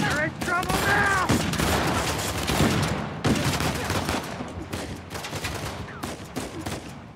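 Rapid bursts of rifle and automatic gunfire crack through an Uncharted: The Lost Legacy firefight, loud and close, with a voice speaking over the opening shots.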